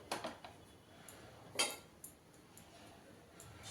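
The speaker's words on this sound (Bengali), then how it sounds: "এবার এটাকে চাপিয়ে দিই গ্যাসে আর ঢেকে দিতে হবে।" A metal pot is set on a gas stove and covered with its lid while fish cooks in banana leaf: a few faint, close clinks and taps of metal spaced over a quiet kitchen background.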